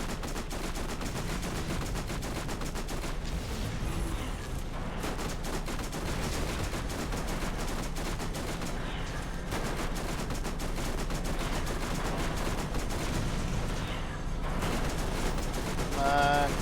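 Gunfire aimed at turrets in the video game Borderlands, with rapid repeated bursts of shots running continuously over the game's loud background noise, and a voice talking now and then.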